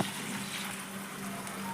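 Water is poured into a stuffed brinjal masala curry, producing a brief, even gushing rush at low level.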